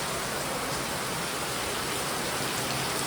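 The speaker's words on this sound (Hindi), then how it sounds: "बहुत अच्छी खासी बारिश हो रही है।" Heavy rain pours down at a forest campsite near Alibag with cottages and a dormitory, a dense, loud, unbroken hiss that fills the whole scene with no talking.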